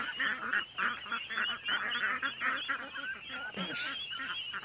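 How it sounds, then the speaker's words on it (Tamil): White Pekin ducks on a farm give a run of repeated loud honking quacks, several birds calling over one another in a busy, steady chorus at close range. "இந்த வெள்ளை பெக்கின் வாத்து உட்காந்துருக்கு பாருங்கள்."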